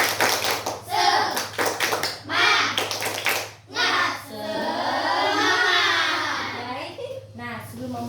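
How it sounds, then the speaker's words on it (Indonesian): Schoolchildren in a fourth-grade class perform a rhythmic clapping chant, bursts of patterned claps alternating with shouted group chanting, with a teacher's voice leading and a steady hum beneath. "Sebelum kita mengakhiri, kan kita tepuk semangat."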